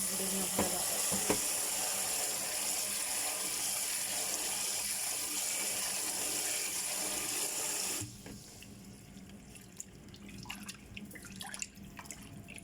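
Tap water runs steadily into a sink as things are washed, a loud continuous rush that cuts off abruptly, followed by quieter drips, clinks and handling sounds.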